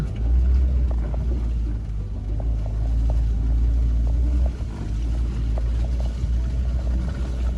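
Land Rovers drifting at an off-road event produce a steady, deep engine rumble that drones continuously with faint rattles on top, fairly close and unbroken throughout.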